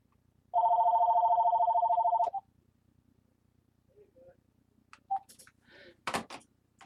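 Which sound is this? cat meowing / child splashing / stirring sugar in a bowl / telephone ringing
telephone ringing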